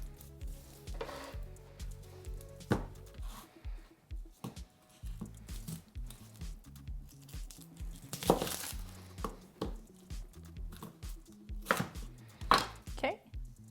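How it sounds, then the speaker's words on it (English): A knife chops through an onion on a cutting board in irregular bursts of crisp thuds and slicing crunches, close and clear, with short pauses between cuts. "you're going to cut your onion in half, leaving the head on one half, the tail on the other half"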